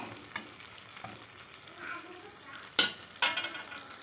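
Onions sizzling in butter for butter chicken (ayam mentega), a steady low frying hiss with occasional stirring clatters and a couple of sharper pan knocks, fairly close, no talking.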